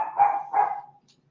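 A dog barks indoors, two quick close barks fading into a short tail, loud and clear with no talking.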